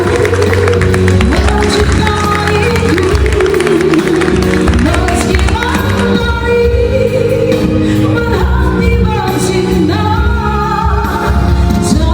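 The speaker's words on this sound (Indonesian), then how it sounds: "Dengan tepuk tangan kita semua" Wedding reception crowd applauding and cheering during the cake cutting, a continuous roar of clapping mixed with loud music throughout.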